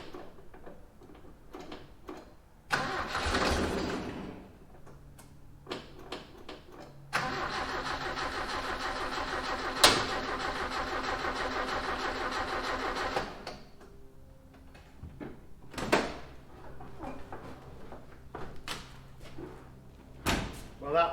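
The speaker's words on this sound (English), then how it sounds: "I'm going to jump in, start it, take it for a drive" A 1981 Toyota Hilux RN46 4x4 with no radiator fitted cranks and starts, its engine running loud and steady for several seconds, with door slams and clunks before and after and brief cranking bursts around it.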